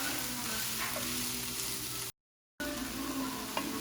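Onion frying in a pan, a constant close, even sizzle with little variation, briefly interrupted by a short silent gap before continuing.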